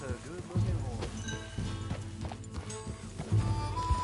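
Horse hooves clip-clop in a video game, a steady run of thuds under a busy mix of music and other game sound.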